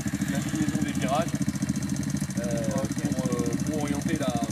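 A pit bike engine runs steadily with a throbbing, chugging mid-range drone that fills the whole stretch, while a person talks over it.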